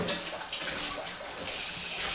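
Water drains in a steady, slow trickling rush from a homebrew mash cooler during sparging, continuous and fairly close with no voices.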